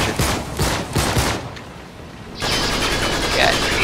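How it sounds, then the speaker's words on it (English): Grenade launcher fire and explosions in Uncharted 3 during a fight with an armored pirate: a rapid series of loud, sharp bursts, then a brief lull, then a sustained wide roar, with speech-like sounds mixed in. "I am gonna shoot him with the grenade launcher."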